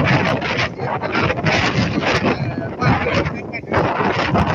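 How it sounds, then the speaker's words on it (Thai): Strong wind from Storm Pabuk in Nakhon Si Thammarat, Thailand, buffets the microphone with loud, continuous roaring gusts while a reporter talks beneath it. "ตอนนี้ลมแรงมากนะฮะต้องบอกว่าโอ้โหเสียงลมพัดเข้ามา"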